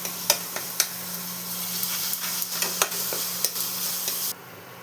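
Ginger garlic paste frying in a pan gives a steady sizzling hiss, broken by repeated scraping stirs, until the sound cuts off abruptly near the end.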